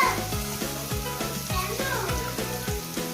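Cumin and ginger spice paste fries in a pan with a soft, continuous sizzle, overlaid by a rhythmic, repeating tonal pattern throughout.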